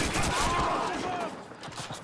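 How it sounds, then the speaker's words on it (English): Gunfire in Call of Duty 2, a dense rattle of shots from nearby that trails off, mixed with battle noise and a voice speaking. "Who is shooting from this direction?"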